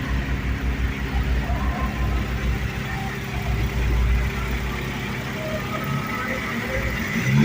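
A 2010 Toyota Avanza G with a 1.3-litre engine and automatic transmission idles steadily, giving a continuous low hum and rumble at an even level throughout, with no revving.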